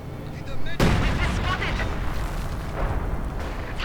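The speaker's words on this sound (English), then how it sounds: "direct hit with the howitzer on the T-34" A howitzer shell in Company of Heroes 2 slams into a Soviet T-34 tank with one sudden heavy boom, followed by a long rolling rumble and battle noise, with a commentator's voice faintly underneath.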